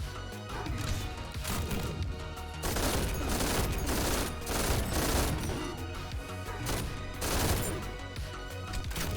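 An MG42 machine gun in the fast shooter game GTTOD fires in dense bursts, loud and near, rapid overlapping cracks and crashing impacts with brief gaps between volleys, no voices.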